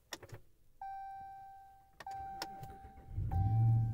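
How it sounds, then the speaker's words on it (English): A 2013 Ram 1500 Sport 4x4 with a 5.7L V8 Hemi starts by push button: warning chimes ring in the cab, then the starter cranks and the engine catches with a low rumble near the end. "Push that start button and it'll start right up for you."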